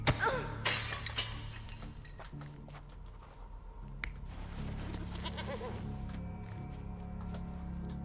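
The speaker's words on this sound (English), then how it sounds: "Goat." A goat bleats in a Sherlock Holmes detective video game, the cry standing out against layered game music and ambience, with a few sharp clicks scattered through.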